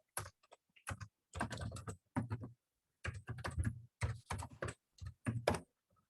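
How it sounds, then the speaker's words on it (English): Someone types on a computer keyboard during a webinar, in quick clustered bursts of key clicks separated by short pauses, close and clear with no talking. "I can hear you all judging the speed of my typing."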